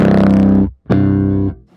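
Two heavily distorted bass guitar notes through a Geddy Lee-style amp distortion pedal ring out loud and fuzzy, separated by a brief silence, the second trailing off.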